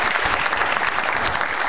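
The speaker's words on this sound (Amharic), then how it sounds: "አጨብጭቡ" Studio audience at a Saturday afternoon Amharic quiz game show breaks into loud, dense clapping that holds steady and close throughout, with no voices over it.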